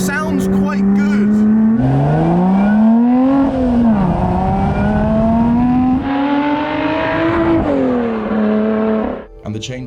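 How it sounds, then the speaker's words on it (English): A Lotus Exige Sport 410 with a supercharged V6 engine revs loudly and steadily through rising and falling tones as it accelerates and shifts gears, heard up close with no talking. "they got rid of the little four-cylinder engine and swapped in a supercharged V6, which, by the way, sounds quite good"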